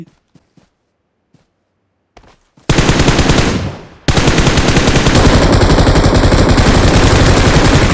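Rapid automatic machine gun fire in a video game, loud and continuous bursts after a few faint clicks, close and dominant with no talk over it.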